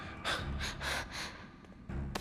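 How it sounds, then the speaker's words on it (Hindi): Heavy, rough breaths and gasps inside a lost tomb in a Hindi-dubbed drama, four or five loud airy pulses in a row followed by a thump and one more sharp breath. "मुझे सांसों की आवाज आ रही है।"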